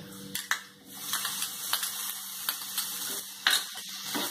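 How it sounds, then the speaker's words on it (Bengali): Chopped tomato is stirred into onions frying in a pan, giving a soft continuous sizzle punctuated by scraping and clinking of a utensil against the pan at irregular intervals, close and alone. "এবার আমি দিয়ে দিচ্ছি এর সাথে টমেটো কুচিটা"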